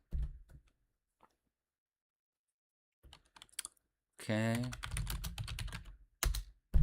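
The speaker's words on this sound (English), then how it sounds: "Just want to hear me type on this keyboard right next to my microphone." Close, loud keyboard typing in quick bursts of clicks and taps right next to the microphone during a live esports draft, with a brief spoken word mixed in near the end.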